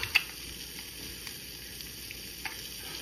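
French toast slices sizzle steadily in a hot pan after being flipped golden brown, a continuous close frying hiss with a few small pops, no voices.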